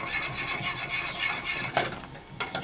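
Turkish delight mixture with butter being stirred in a pot on the stove, repeated scraping and rubbing strokes of a spoon against the pot, fairly close, ending with a couple of sharper knocks.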